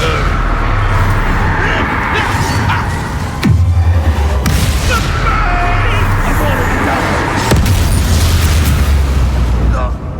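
A Confringo fire spell explodes in Hogwarts Legacy combat, with deep booming blasts near the middle and end over constant battle noise and character shouting.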